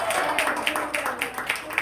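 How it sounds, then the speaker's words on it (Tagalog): A church congregation claps together in a steady rhythmic pattern of sharp hand claps, moderately close, beneath a preacher speaking. "Sige, pumalakpak yung naniniwala."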